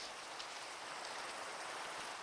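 Steady, faint rain hiss falls across a Minecraft world at sunset, an even wash of soft patter with no voices.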